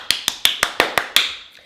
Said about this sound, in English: I was giving it a clap and tap in the back as well